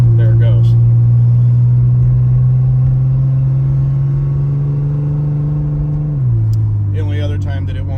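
A Pontiac Fiero GT engine idles steadily with its EGR valve opened, a loud constant hum that drops in pitch and roughens near the end.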